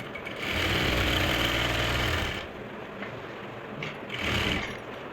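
A sewing machine runs a long basting stitch along a salwar, a close mechanical hum in two short bursts, the first longer and steadier, the second brief, with quieter gaps between.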